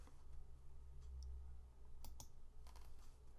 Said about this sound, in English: I'll hit L on the keyboard